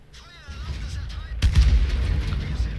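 Artillery fire in a tank video game: a sudden heavy boom that rolls into a rumbling, noisy tail, preceded by quieter engine noise and a voice.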